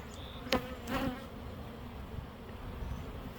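Honey bees fly around a hive, a soft steady buzzing drone with a couple of louder close passes early on, as insects zip right by.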